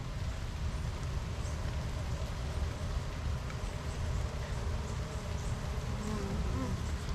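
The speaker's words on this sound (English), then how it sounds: "I definitely noticed there's a bee right here that had about 2 varroa mites on it." Honeybees buzzing around an open beehive on a warm, dry day, a steady close drone of wings filling the clip, fairly quiet, with no talking.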